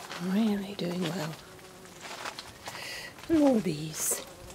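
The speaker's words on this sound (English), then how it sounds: "And more bees." Bees buzz among lavender in a Brittany garden in August. The insect hum is faint and continuous, with someone talking casually over it.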